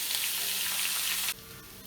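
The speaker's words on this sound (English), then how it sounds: "we can add 2 large onions that have been thinly sliced and stir until the onions are golden brown" Thinly sliced onions sauté in a pan with a soft, steady sizzle that cuts off abruptly partway, fairly faint and close, without any talking.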